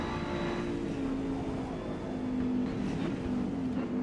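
A steady, droning engine from an Audi Quattro GTO race car during a night endurance race in Forza, holding a sustained tone with slight pitch shifts throughout, fairly loud and continuous with no talk.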